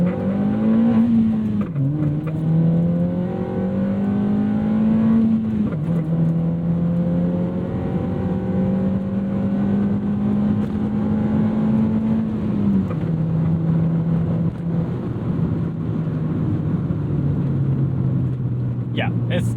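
A 2009 Honda Fit with a 120-horsepower engine accelerates hard through several gears, a buzzing engine note climbing steadily then dropping at each shift, heard from inside the cabin, loud and continuous.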